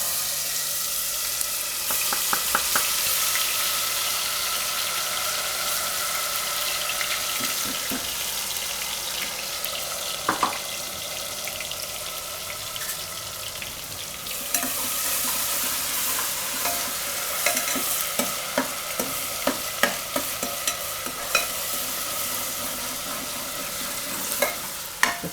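Ginger, chillies and garlic sizzling and frying in hot oil in a pan for a Gujarati cluster bean curry, with a steady crackle throughout and sharp scraping clicks from a spoon stirring, louder in the second half.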